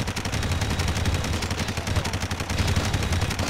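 Rapid automatic gunfire rattles nonstop in the Red Faction video game, a dense, loud stream of shots with no pauses across the whole stretch.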